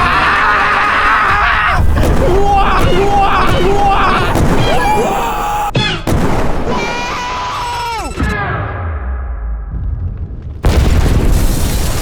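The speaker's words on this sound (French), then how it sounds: "j'ai même pas vu l'explosion du coup" Explosion set off at a YouTuber's premises on a windy day: a sudden loud, close boom near the end, following excited shouting and cries from people nearby.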